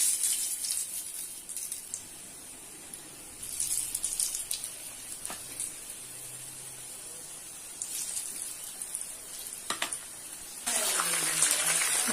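Mushroom chilli pieces dropped one by one into hot oil for crispy mushroom 65, a steady soft hiss of deep-frying with bursts of louder bubbling, and a sharp surge of sizzle near the end.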